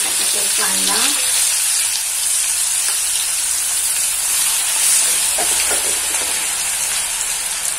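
Onion frying in butter with ginger-garlic paste for pav bhaji, a loud, dense, steady hiss of sizzling throughout, with a brief voice near the start.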